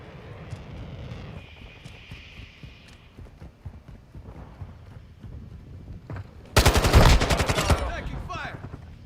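Gunfire in the video game Call of Duty Modern Warfare II: scattered distant shots and game ambience, then a loud, close rapid automatic burst near the end.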